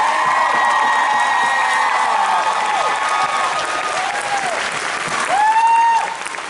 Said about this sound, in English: So I'd like a round of applause for Mr. and Mrs.